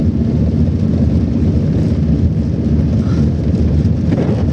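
Steady, dense rumbling wash of rain falling on a moving car, continuous and fairly loud, with low road or engine noise blended underneath and no talking.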